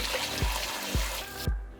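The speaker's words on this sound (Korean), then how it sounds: "30초간 흐르는 물로 남아있는 농약이 있을지 모르니 제거를 해줍니다." Tap water runs steadily over fruit as it is rinsed to wash off pesticide residue, a close, continuous splashing with a few soft thumps, cutting off abruptly near the end.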